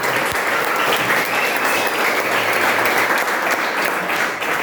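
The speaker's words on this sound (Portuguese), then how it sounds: "você pode aplaudir o Senhor bem forte" A church congregation applauds loudly and steadily during a worship service held in a garage, a dense continuous wash of many hands clapping with faint voices mixed in.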